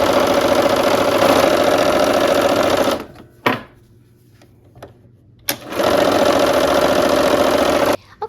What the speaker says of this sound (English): let's go ahead and sew those together